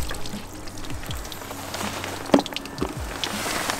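Hot water poured onto paint protection film on a car, a soft continuous trickling pour with small splashes and one sharp tap, fairly close and alone.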